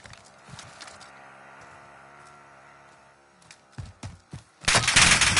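Video game gunfire in a tactical shooter: a few sharp scattered shots, then a dense loud burst of rapid fire near the end over a low background hum, with no speech.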